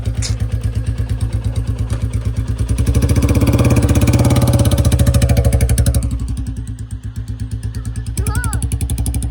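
A motorcycle engine runs close and loud with a rapid thumping beat and mechanical clatter, rising in revs briefly, dropping back to a lumpy idle, then picking up again.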